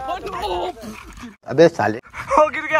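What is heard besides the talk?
dog barking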